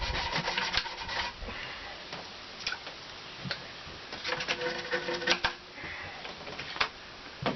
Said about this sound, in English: I have to get in here with a toothbrush.